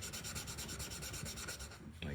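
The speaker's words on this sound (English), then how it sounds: "I'm gonna begin to sand" Patent leather is sanded by hand during a repair, a quiet, rhythmic scratchy rubbing in quick repeated strokes that stops briefly near the end.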